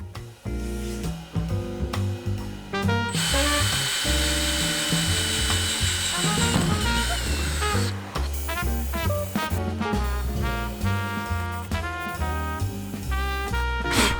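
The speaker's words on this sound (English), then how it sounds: "then we're going to start drilling" A power drill drilling pilot holes in a van roof for a fan install whines and bites in repeated bursts, its pitch rising and falling as it runs, close and loud.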